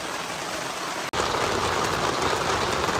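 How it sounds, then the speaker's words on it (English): Heavy rain pouring steadily onto a campsite awning as a dense, loud, continuous hiss with a brief dropout partway through, no voices. "We had some heavy rains here."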